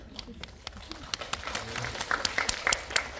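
Scattered audience clapping at a film screening Q&A, a few distinct claps at first that build into denser, closer applause toward the end, with some voices underneath.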